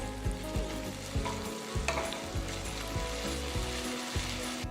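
Golden-brown onions and ginger garlic paste sauté in a pan for a Kovakkai (tindora) masala curry, with a bright continuous sizzle and regular knocking, scraping strokes of a spoon stirring close by.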